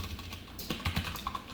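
Quick, close clicks of a computer keyboard as code is typed, a soft irregular patter of keystrokes with no talk.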